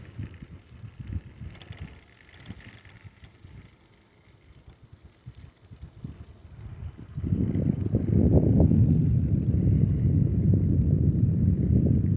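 A bicycle rolls through a neighborhood, faint tire and wind rumble at first, then a louder steady rush of wind and road noise as it picks up speed for the second half.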